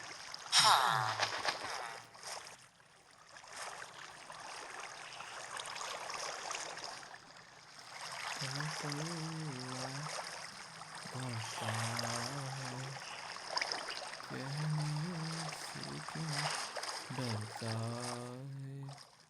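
Continuous rushing and lapping of water from a boat gliding along in Minecraft Pocket Edition, with voices talking over it in the second half.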